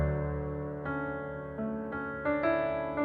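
Dry, unprocessed piano recording playing a few sustained chords one after another, each struck clearly and left ringing, alone and fairly quiet.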